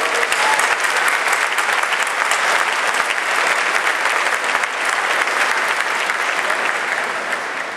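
A crowd at the Georgia Republican Convention gives the convention committee a sustained round of applause, a dense, even roar of clapping that holds steady throughout and eases slightly at the end.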